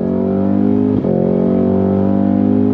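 A 2024 Cadillac CT5-V Blackwing performance sedan at full throttle, its engine roaring loud and close with steady harmonic drone and a brief dip around one second as it keeps pulling hard.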